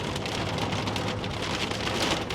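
Heavy rain pours down in a steady, dense hiss across the whole stretch, loud and unbroken, with no voices.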